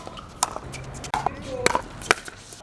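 Pickleball paddle striking a ball during play on outdoor courts, several sharp hollow pops spaced irregularly over steady background noise.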